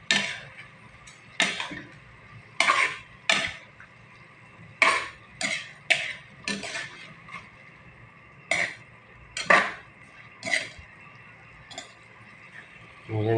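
Food is stirred in a metal cooking pot, with irregular utensil clanks and scrapes repeating every second or so against a quiet background.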